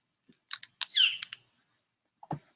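Several short bird chirps and tweets, fairly close and moderately loud, sound outdoors during a Samhain ritual gathering, followed by a lower brief call after a pause.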